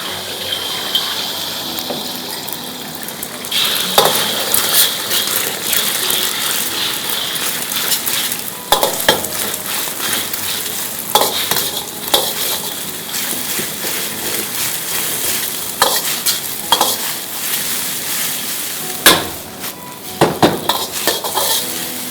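Eggs frying in a pan for a Szechuan-style dish, with steady close sizzling and repeated scraping and stirring clatter of a utensil against the pan throughout.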